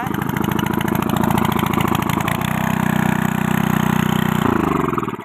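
A farm water-pump engine in an orchard sputters into life and settles into a loud, steady, rapid chugging idle close by, with its rhythm shifting partway through.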